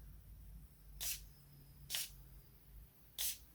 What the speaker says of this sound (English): I'm going to spray a little bit more on my wrist